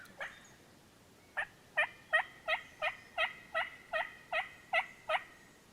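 A wild turkey gobbles in a spring Missouri woodland, about eleven clear, fairly loud calls repeating in a steady rhythm roughly every third of a second to half second, with no one talking.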